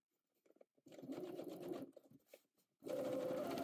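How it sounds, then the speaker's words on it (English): A sewing machine edge stitching and top stitching a garment seam, running in three short bursts of steady whirring stitches with brief stops between, close up and with no voices. "we're going to edge stitch and top stitch"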